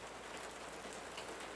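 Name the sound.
rain sound effect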